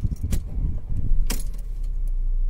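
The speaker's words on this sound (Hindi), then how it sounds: "तो हम फिर से इस गाड़ी को स्टार्ट करेंगे।" Keys jangle loudly near a Mercedes CLA 200, with an earlier check engine light and misfire fault, then the engine cranks and settles into a steady idle hum.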